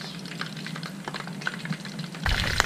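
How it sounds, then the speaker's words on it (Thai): Crispy pork belly skin crackles and pops while frying in hot oil over low heat. Rapid small ticks and snaps run steadily at close range, growing denser and a little louder near the end, with no talk. "น้ำมันก็เริ่มร้อนแล้วนะครับเริ่มเดือดขึ้นมาแล้วหนังเริ่มแตกเริ่มพองนะครับ เป็นเสียงเป๊ะเป๊ะเป๊ะเป๊ะ"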